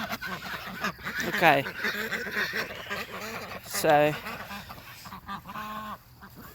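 Ducks quack and honk in a few short bursts at a moderate distance, with a person speaking briefly among the calls.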